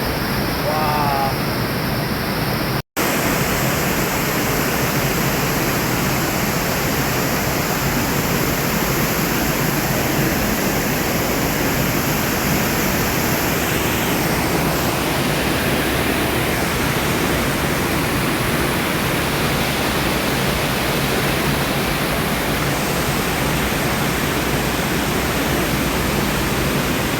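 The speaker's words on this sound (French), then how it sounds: "Bon, on va encore affronter les cascades." Roaring waterfall cascades give a dense, loud, unbroken rush of falling water that holds steady from start to finish, with only a brief break near the beginning.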